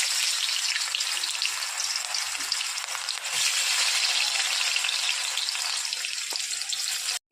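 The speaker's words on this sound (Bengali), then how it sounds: "এখন আমি গ্যাসটা কমিয়ে পেঁয়াজ দুটো ভেজে নেব।" Onions fry in hot oil on a low gas flame, giving a dense, continuous close sizzle that holds steady for several seconds before cutting off abruptly, with no voices.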